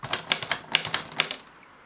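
Toy typewriter keys clacking in a quick burst of about eight crisp, close strikes, then stopping.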